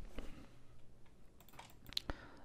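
Computer keyboard keys pressed during a Rhino 3D modeling session: a few scattered, soft clicks and taps close by, spaced irregularly over quiet.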